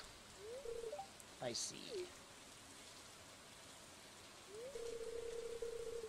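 Steady rain falls in the farming video game Stardew Valley, a soft continuous hiss heard beneath short tonal game chimes and a brief spoken line.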